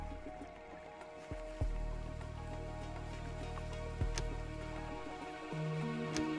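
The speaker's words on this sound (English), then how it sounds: "It's raining right now." Soft, steady rain ambience from the post-apocalyptic city-building game Endzone, a faint continuous patter with a few low tones underneath and no speech.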